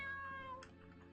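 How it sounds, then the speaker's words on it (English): A cat in the video game Aria's Story gives one short meow when petted, following a sustained tonal background of game music. "Can I pet the cat?"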